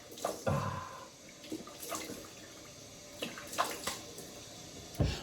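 Cold water running from a bathroom tap during a wet shave, a steady soft rush with occasional splashes and drips close by.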